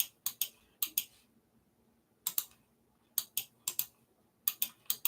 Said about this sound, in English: I'm clicking my mana,